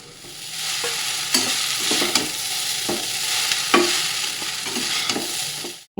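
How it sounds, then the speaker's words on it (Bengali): Atta chowmein with vegetables frying in a pan, with a fried egg going in, sizzles steadily throughout, broken by several sharp stirring scrapes and clinks of a spatula; close and fairly loud, with no talking. "সবজি সব কিছু কিন্তু একদম ভালো মতো ভাজা ভাজা করে নিয়েছি এবার ভেজে রাখা ডিমটা দিয়ে দেবো ওপর থেকে"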